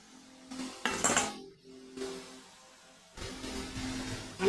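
A lid set onto a cooking pot of boal fish curry with potatoes, a short metallic clatter and clink near the start followed by quiet simmering hiss, close and alone.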